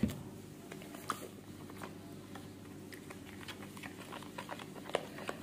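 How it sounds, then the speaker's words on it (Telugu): A spoon stirs sambar powder into water in a bowl, making soft, scattered clicks and light scraping taps that sound close and quiet. "ఇలా ఉండలు లేకుండా కలుపుకొని పోపు పెట్టేసుకోవడమే"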